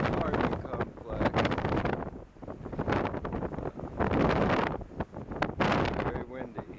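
Strong wind buffets the microphone outdoors in gusty, roaring bursts, with some talking mixed in.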